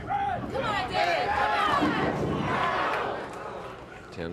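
A large bowling crowd at a 1989 pro match between Pete Weber and Dave Ferraro cheers and roars steadily for several seconds, loud and sustained. A commentator's voice is mixed in.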